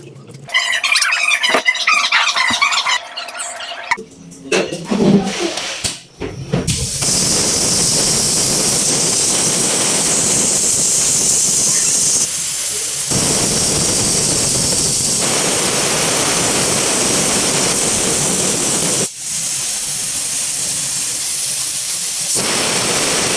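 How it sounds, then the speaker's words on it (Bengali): A pressure cooker cooking beef lets out a loud, continuous hiss of steam that runs on for many seconds after a few brief clattering sounds. "গোস্তগুলা প্রেশার কুকারে পাঁচ মিনিটের জন্য দিয়ে দিলেই আমাদের গোস্ত হয়ে যাবে"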